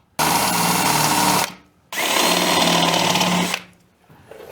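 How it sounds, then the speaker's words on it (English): A step drill bit on a power drill chamfers a freshly drilled hole in two loud, steady whirring bursts, each about a second and a half long, with a short pause between them. "I'm gonna come back with a Christmas tree here just to chamfer the hole a little bit."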